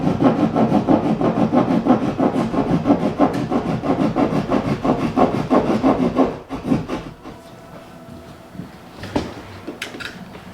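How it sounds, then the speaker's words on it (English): Drywall being sawn by hand to open space for a new window, a steady rasping back-and-forth stroke that runs continuously for about six seconds, then stops, leaving a few faint knocks and scrapes. "I hear Dad cutting stuff out"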